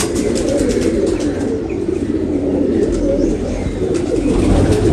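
A pigeon of a Kamgar and Teddy cross coos close by in soft, repeated low calls, with other birds chirping faintly in the background.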